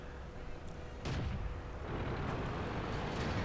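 A KV-2 tank cannon fires in World of Tanks with a single heavy, booming blast that lands about a second in, followed by a rolling rumble and some fainter crackling impacts over low background noise.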